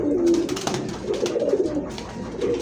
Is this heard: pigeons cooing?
yes